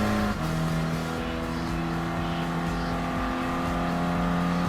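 Renault Sport 220 EDC Trophy race car lapping in the Gran Turismo Sport video game: a loud, continuous engine drone with steady tones and a slight pitch shift, heard close and alone.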